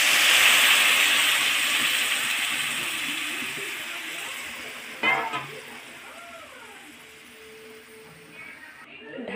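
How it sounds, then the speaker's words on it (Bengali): Water poured into a pan of salted, sautéed food on the stove, a loud hissing burst of steam that slowly fades, followed by a few faint clinks and a quieter simmer. "কষানো হয়ে গেছে, এবারে জল দিয়ে দেব।"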